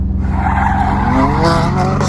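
A 2019 BMW M2 Competition with a boosted S55 engine and stage 2 plus turbos, around 700 horsepower to the rear wheels, skids with a loud continuous tire squeal over a roaring engine, close up throughout.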